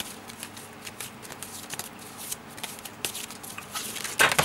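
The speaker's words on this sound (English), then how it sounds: "So I will shuffle until a card presents itself." Tarot cards shuffled by hand during a reading, a soft, close, steady riffling and sliding of cards with quick flicks, ending in a brighter burst of shuffling; no talking.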